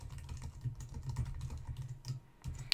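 Typing on a computer keyboard while entering a survey question into a web page builder, a steady run of close, soft key taps with a couple of sharper strokes near the end.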